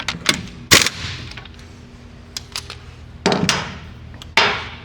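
An air impact gun tightens a brake caliper bolt in a garage, giving several short, loud rattling bursts spread over a few seconds with quiet gaps between them and no talking.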